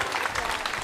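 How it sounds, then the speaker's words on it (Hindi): An audience claps at a Hindi comedy poetry show, a hasya kavi sammelan, in a brief, dense burst of applause that fills the hall without any talk. "यार तो तालियां बड़ा मन से बजनी चाहिए,"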